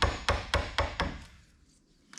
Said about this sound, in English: with a razor sharp chisel